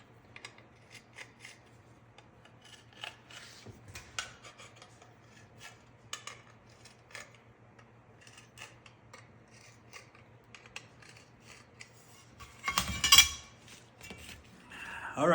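Scraping and rasping of a hand deburring tool working rivet holes in an aluminum Cessna wing spar, faint intermittent scratches and light clinks over a low steady hum, with a louder burst of metal rubbing near the end.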